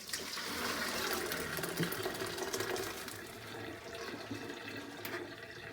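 Cooking water from boiled lentils pours steadily from a tipped pot into a strainer, a continuous splashing gush that holds fairly even for several seconds.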